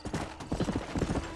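Horse hooves clip-clop in a rapid, rhythmic gallop in Red Dead Redemption, close and distinct, about a dozen hoofbeats in quick succession.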